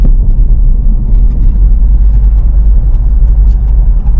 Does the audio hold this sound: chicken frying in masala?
no